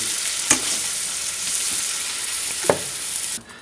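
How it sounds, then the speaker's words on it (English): Bacon and Brussels sprouts fry in a pan with a steady hiss, two sharp clanks of stirring standing out, with no talk over the sizzle. "We're going to bring in the Brussels sprouts. We're going to mix it all together."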